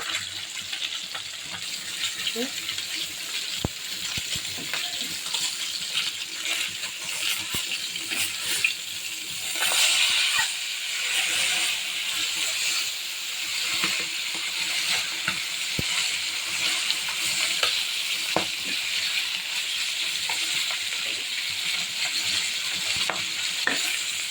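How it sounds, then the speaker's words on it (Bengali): Snakehead fish frying with bottle gourd in a pan gives a steady close sizzle throughout, with occasional sharp clicks and scrapes of stirring and no voices. "লাউ দিয়ে দিয়েছি, হোক মাছ ভাজা হোক"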